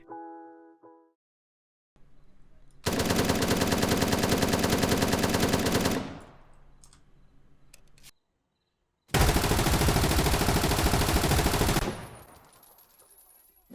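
Automatic gunfire in the video game Zero Hour, two long sustained bursts of dense, loud, thumpy shots separated by quieter gaps with faint clicks and handling noise.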